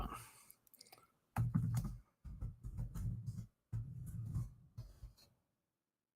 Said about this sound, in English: The typing's got super slow.